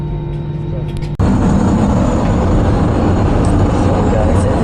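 A small airplane in flight fills the space with a loud, constant engine and cabin roar that suddenly steps up in intensity about a second in and then holds steady.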